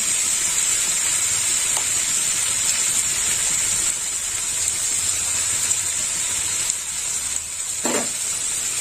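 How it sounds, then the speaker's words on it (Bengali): Milk poured into a hot pan of cooked bottle gourd, producing a loud continuous steamy hiss and sizzle close by that holds steady and then eases slightly, with one brief lower splash near the end and no talking. "দিয়ে দিলাম দুধ, পুরো দুধটা দিয়ে দেবো।"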